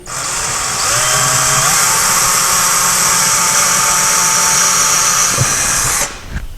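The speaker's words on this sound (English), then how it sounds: "we're going to drill it just a little bit, about 1 inch in." A loud power drill whines steadily for several seconds close by, drilling a pilot hole about an inch into a wall, then cuts off abruptly near the end.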